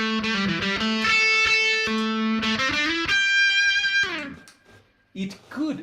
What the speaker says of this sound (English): if I use that together with some distortion, and if I play just like I would normally do